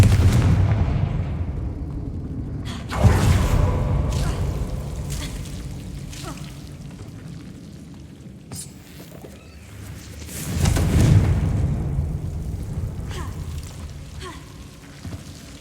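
Fire-blast spell explosions in the video game Hogwarts Legacy, two heavy booming blasts a few seconds apart with rumbling tails over a steady background din.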